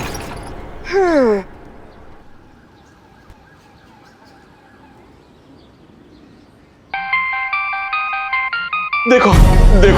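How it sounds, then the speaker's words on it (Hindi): A mobile phone ringtone rings in a stylized, melodic pattern and grows loud after about seven seconds, following a brief siren-like sweep and quiet background murmur. "हमारी मैडम का फोन बज रहा है।"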